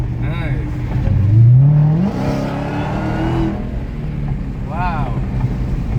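A Dodge Challenger Hellcat on drag radials accelerates hard, its engine roar rising with a climbing supercharger whine, heard from inside the car with a voice briefly speaking at the start and end.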